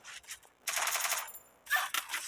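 Rapid submachine-gun bursts from the Free Fire battle royale game, several short automatic volleys separated by brief pauses, loud and close with no talking over them.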